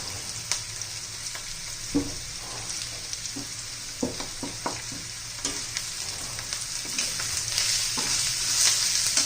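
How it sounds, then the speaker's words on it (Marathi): Asafoetida sizzling in hot oil beside fried onions in a pan for a moong dal and onion curry, a steady soft frying hiss broken by light stirring clinks and scrapes, close and without talk. "थोडा कांदा बाजूला सरकून मी तिथे हिंग घालते तेलामध्ये"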